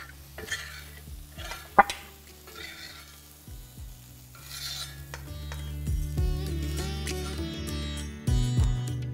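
A metal spatula scrapes and clatters across a hot tawa griddle as it is cleaned, with irregular scraping strokes, clanks and a faint sizzle underneath.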